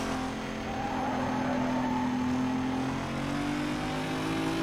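Car engine in the racing video game Need for Speed Most Wanted Redux, a steady droning engine note that slowly rises in pitch, with a hiss of tire noise and no talking.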